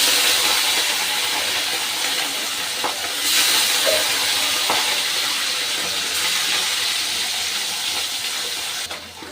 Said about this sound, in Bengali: তেলটা আমার গরম হয়ে গেছে এবার আমি মাছগুলো ভেজে নিচ্ছি